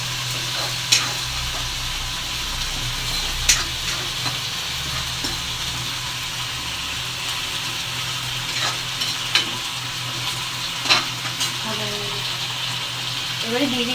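Black cumin, garlic and onion frying in hot oil as a tempering for red lentil dal, a steady close sizzle with occasional sharp crackles and spatula taps, a steady low hum underneath and speech at times.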